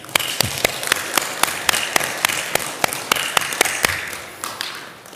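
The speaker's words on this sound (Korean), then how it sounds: "박수 한번" A temple audience claps in response to a call for applause, a loose run of sharp, fairly close hand claps with a faint voice underneath.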